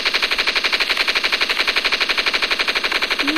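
Rapid, unbroken machine gun fire in a shooter video game, loud and close, with evenly spaced shots in a fast steady rhythm and no talk over it.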